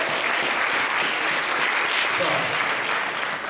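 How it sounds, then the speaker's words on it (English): Audience applause fills a venue at a spoken-word poetry event, a dense, steady roar of clapping from a large crowd. It holds at full strength throughout, and a single word from a speaker cuts in over it. "Give yourselves a round of applause for being in the building."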